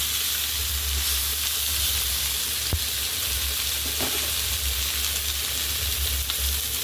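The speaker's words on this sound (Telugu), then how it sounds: "ఇంకోవైపు వేయించుకోండి." Fish frying in a pan for a fish curry lunch, a dense continuous hiss of hot oil with a low rumble underneath and an occasional faint tap, close and steady, no voices.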